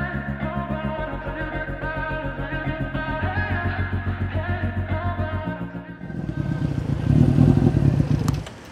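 A Honda CB400 converted into a custom bobber motorcycle idles with a lumpy, pulsing exhaust beat, then revs up into a louder, rougher roar near the end of a test ride.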